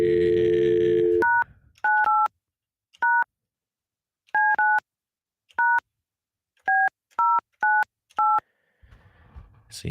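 A sequence of about eleven DTMF keypad tones dials a cell phone number on a telephone line, each beep short and distinct in an uneven rhythm, with a brief dial tone at the start and faint room noise at the end.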